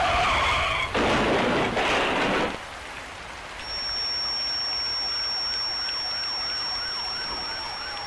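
A car crash sound effect opens with two loud bursts of skidding tires, then settles into a wailing emergency siren that rises and falls over a steady background wash, with no speech.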